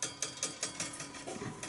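Hand-turned handle driving the mechanism of a c.1984 Zoopraxiscope replica, with a shutter and disc that rise in the body: quiet, regular ratcheting clicks about every fifth of a second, close and dry, with light metallic rattles between.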